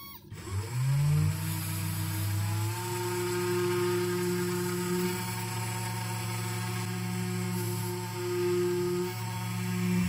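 A CNC mill drilling alignment holes in a printed circuit board, a loud steady high-pitched spindle whine that spins up at the start and holds a constant tone, with faint shifts as the bit cuts.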